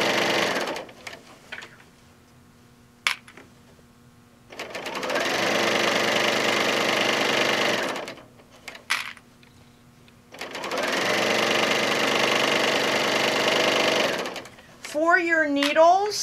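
A serger sewing machine stitches and trims fabric with its cutter, running loud and close in two long steady bursts separated by quiet pauses, with a brief voice near the end.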